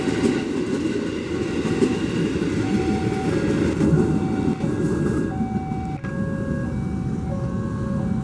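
A KRL electric commuter train in new livery rumbles past a level crossing at Kulon, its wheels clattering steadily and loudly close by while a crossing bell chimes at intervals.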